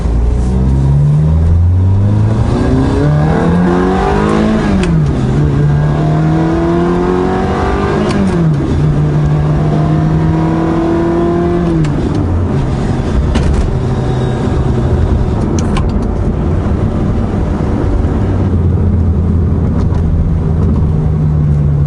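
A Ferrari F430 with a manual gated transmission accelerates hard through the gears, its engine note climbing and dropping at each shift in a loud, continuous, close-up roar, then settling to a steady drone.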